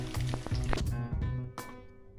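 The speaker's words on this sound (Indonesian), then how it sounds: "setelah ininya meresap baru kita goreng" Marinated beef for Sundanese empal gepuk fries in a pan, with soft sizzling broken by a few clinks and knocks of utensils, fairly quiet and close.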